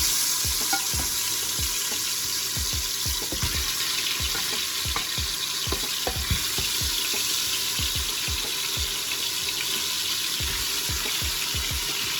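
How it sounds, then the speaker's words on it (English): Steady, dense sizzling and crackling of cow foot frying in preheated hot oil, continuous and close, with scattered pops and no talking. "I am going to put my cow foot in my oil"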